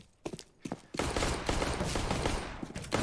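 Rapid Glock pistol gunfire in a CS:GO match on Dust 2 crackles in a dense burst of shots, opening with a few separate cracks before a sustained barrage that fills most of the moment.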